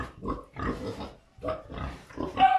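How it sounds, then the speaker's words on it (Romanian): Pigs grunt on a farm in a series of close, throaty bursts, about five in quick succession with short breaks between them. "Să văd ce porci mai avem."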